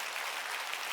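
Church congregation clapping hands during a worship service, a dense, steady wash of applause filling the whole second with no pauses or talk.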